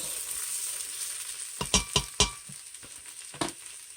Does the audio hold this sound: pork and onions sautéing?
yes